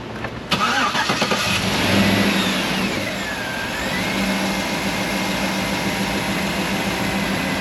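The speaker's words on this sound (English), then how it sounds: "I'm gonna climb in and hit the key. Beginning engine restarting sequence now." A GM 5.3 car engine cranks and catches after serpentine belt installation, then settles into a steady running drone nearby. No one speaks.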